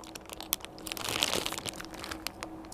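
Crispy chocolate oat snack being chewed close up, a dense run of sharp, crackly crunches that swell and then ease off, with no talking.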